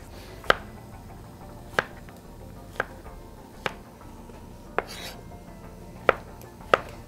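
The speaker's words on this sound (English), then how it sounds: "Okay, we're just gonna slice them up." A knife slicing peaches on a cutting board makes seven crisp, evenly spaced chops over a quiet background.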